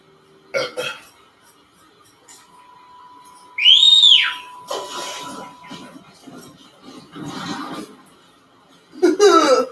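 A short rising-and-falling whistle calls a mount in Horizon Zero Dawn, sharp and loud for about a second, surrounded by quieter game sounds and brief chatter.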